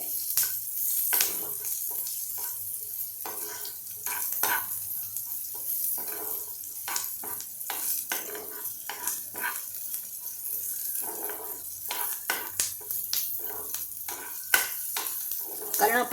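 Onions frying in a pan, hissing steadily with repeated scraping strokes of a spoon stirring them, close and moderately loud throughout with no talking.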